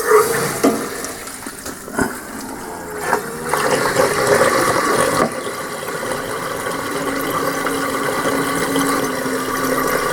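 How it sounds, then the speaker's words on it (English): Water runs steadily into a hot water tank during servicing, making a continuous rushing, gurgling flow with a few knocks and clunks early on. "fill the tank with water, and then we'll put the plug in here"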